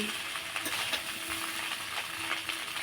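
Paneer pulao being stirred steadily in a pan, with a continuous soft sizzle and hiss and scattered light scraping and clinking from the spoon, close and fairly quiet throughout with no talking.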